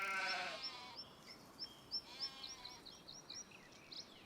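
Sheep in the Farming Simulator 25 video game bleat in a series of short, fairly faint calls, one after another at an uneven pace, with no talking.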